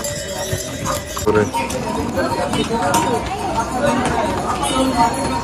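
Hooves of pack horses carrying sacks on the Kedarnath route clip-clop over a busy outdoor bed of chatter and movement, a steady mixed din with no quiet gaps.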